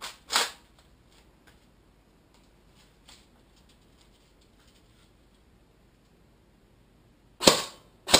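A Masada airsoft rifle loaded with 0.25 g BBs fires single shots, with a few sharp, close snaps spaced far apart amid near silence and faint ticks between them.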